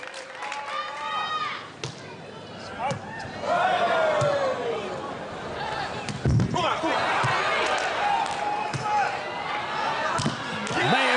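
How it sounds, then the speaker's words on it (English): A raucous crowd roars at a beach volleyball world championship match in Rotterdam, with ball thumps and sharp shouts cutting through, while commentary talk runs over the noise. "A raucous and rowdy atmosphere in Rotterdam."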